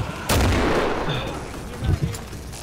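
Gunfire from the video game Killing Floor: a sustained, loud burst of shots with a heavy boom near the start, then a few more scattered reports further on.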